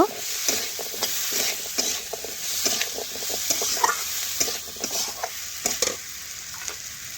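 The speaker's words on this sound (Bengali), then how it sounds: "এখন আমি মশলার বাটিটা দিয়ে একটু আমি জল দেব" Water from a spice bowl goes into a hot frying pan of spiced vegetables being cooked for chhyachra, giving a continuous close sizzle with scattered scraping stirs and small clinks, and no talk.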